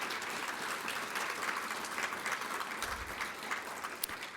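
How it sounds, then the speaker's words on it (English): Audience applause at a museum curator talk on B.J.O. Nordfeldt's connections to Wichita: a steady, dense wash of many hands clapping that holds evenly throughout the room. "Great applause to all these people who've helped make this happen."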